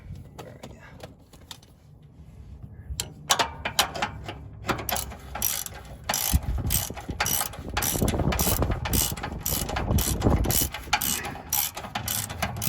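A ratchet tightens a sway bar bushing bolt on a first-generation Nissan Xterra, close and loud, with scattered clicks at first building into sustained rapid ratcheting, someone speaking briefly in between.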